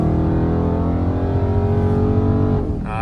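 Dodge Charger 392 Scat Pack in sport mode accelerating hard, its engine a loud, steady roar that climbs in pitch over about two and a half seconds before easing off as it shifts near the end.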